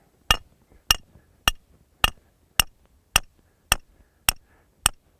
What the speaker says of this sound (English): we're going to stick our first stake in the ground at this position